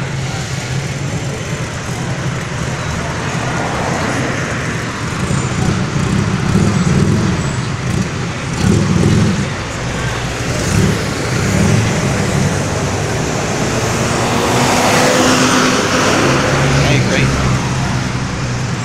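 A VW Karmann Ghia 1600 drives past, its engine rumbling steadily for nearly twenty seconds amid broad road noise and swelling slightly as it nears.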